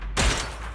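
A shot from Trigger's weapon in the game Zenless Zone Zero, a single sharp report with a deep low thump that hangs on in a noisy tail, loud and close.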